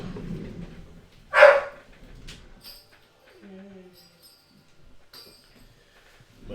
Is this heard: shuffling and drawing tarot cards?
no